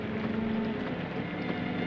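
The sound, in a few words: rain falling on an open-top car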